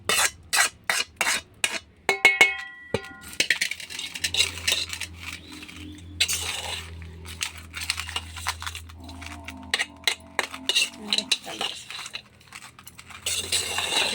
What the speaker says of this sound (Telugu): ఇలా పోపు పెట్టేసుకున్న దాన్ని మిక్స్ చేసేయండి రైస్లో